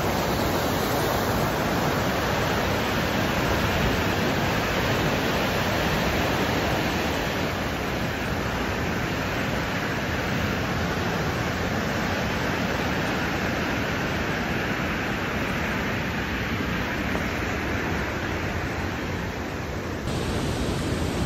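A mountain river on a Dolpa trekking trail toward Shey Phoksundo Lake, rushing loudly and continuously as a dense, unbroken roar of white water close by.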